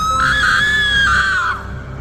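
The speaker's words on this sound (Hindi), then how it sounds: "उसे सुरंग से किसी लड़की के चिल्लाने की आवाज आई" A girl's long, high-pitched scream rings out loud and close for about a second and a half, then cuts off, a horror-story effect set in a tunnel.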